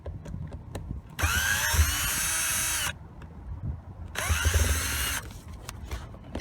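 A power drill backs Phillips screws out of the shifter boot of a 1996 Dodge Ram 1500 pickup, two close, steady whirring bursts of about two seconds each with small clicks and handling noise between them.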